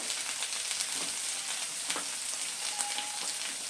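Raw green banana curry sizzles and fries in a pan with turmeric and chili powder, a soft, steady crackle with a few faint clinks of stirring and no talking.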